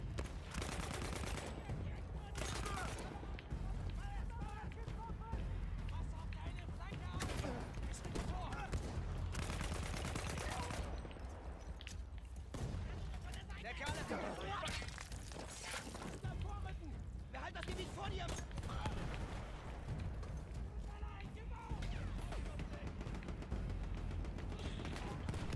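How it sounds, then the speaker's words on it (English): Dense gunfire in the Battlefield 1 video game, with rapid machine-gun bursts and overlapping shots rattling almost nonstop at high volume, heard with a player talking over the fighting. "Where are these guys shooting me from?"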